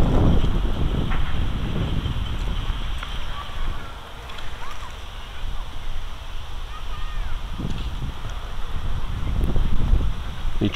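Wind blows outdoors in a steady, loud rush and buffet against the microphone for the whole stretch, with soft rustling and faint sloshing mixed in.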